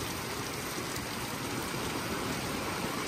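Steady typhoon rain pours down in a dense, even hiss with no pauses, a constant wash of drops close by, in rural Bulakan, Bulacan, Philippines.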